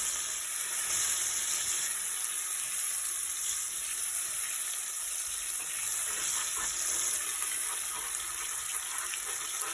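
Butter dropped into hot, smoking caramel for salted butter caramel sizzles and hisses in a steady, dense frying roar that continues close-up and unbroken, with no voices.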